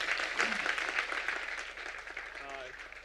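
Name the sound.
audience applause welcoming speaker at design symposium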